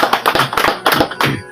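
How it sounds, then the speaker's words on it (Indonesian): Close, loud clapping, a short burst of distinct claps in an uneven rhythm, as from a small audience joining in applause. "Kita kasih satu tepuk tangan lagi."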